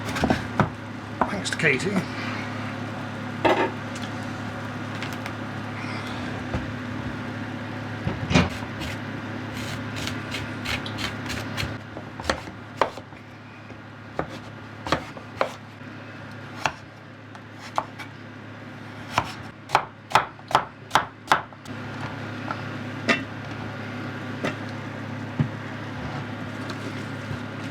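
A knife dices food on a cutting board in scattered bursts of sharp taps, faster and louder in a run near the end, while a person talks over a low background hum.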